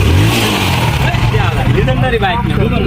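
A motorcycle engine drones steadily and loudly nearby on a steep descent from a hill valley, with voices talking over it throughout.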